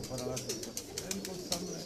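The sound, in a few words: high flyer pigeons cooing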